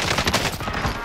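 Rapid, dense gunfire in a first-person shooter game, loud and near, a continuous volley of overlapping shots filling the whole short moment.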